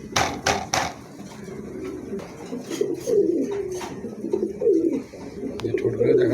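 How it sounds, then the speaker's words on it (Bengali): A pair of red-eyed pigeons coo in repeated low, throaty rolls close by, after a few sharp taps at the start. "চমৎকার একজোড়া কবুতর আছে"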